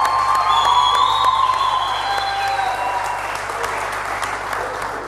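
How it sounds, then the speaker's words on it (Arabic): An audience applauds with steady, dense clapping and cheering throughout, loudest at the start and easing slightly, with shouting voices above the applause. "تصفيق أكبر، أكبر."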